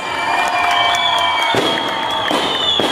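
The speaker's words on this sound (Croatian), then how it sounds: "Možem veliki aplauz, molim vas." Dense, continuous crowd applause and cheering at a New Year celebration in Berane, loud and close, with bangs like firecrackers or fireworks mixed into the clapping throughout.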